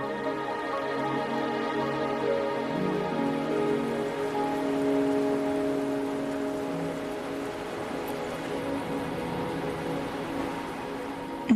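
Steady rain falling in the video game Wuthering Waves, a continuous soft patter with faint tonal game music beneath, even and unbroken throughout.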